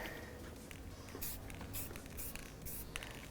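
Isopropyl alcohol is spray-fogged over freshly poured black acrylic paint on a wooden surface, giving faint soft hissing bursts that come and go over quiet background noise.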